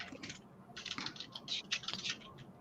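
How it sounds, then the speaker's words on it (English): Quick bursts of typing on a new, quieter computer keyboard, close and fairly soft, with clustered key clicks in uneven runs and short pauses between them. "I got a new keyboard because my other one was like super noisy."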